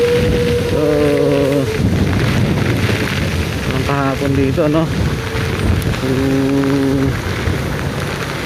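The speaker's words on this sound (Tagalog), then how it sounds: "Grabe, lakas ng ulan." Heavy typhoon rain pours in a dense, loud roar throughout at Luneta in Manila, while someone talks over it in several short bursts.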